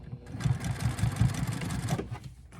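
A sewing machine top stitches a seam on patchwork pants in a rapid, rhythmic stitching burst lasting about two seconds before stopping abruptly, close and moderately loud, with no voices.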